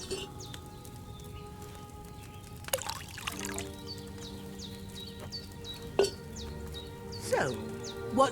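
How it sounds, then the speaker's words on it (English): Wine pours from a pitcher into a cauldron in the video game Kingdom Come Deliverance 2, a soft trickling splash that rises and falls over a quiet room with birdsong and brief tonal game sounds. "you have to pour the right base into the cauldron"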